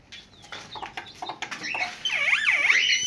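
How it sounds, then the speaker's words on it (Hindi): Pet myna bird calling nearby in a string of chirps and whistles that build into looping, rising and falling warbles, loud and close with no talking. "तो मैना ने आज आपसे आखिर तक बोला है"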